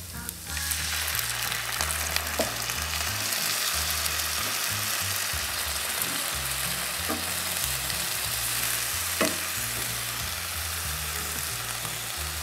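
A hot pan sizzles loudly and continuously as a little water is added while cooking a chili dish for arem-arem, with a steady frying hiss throughout, occasional light clinks of stirring and a low rumble underneath.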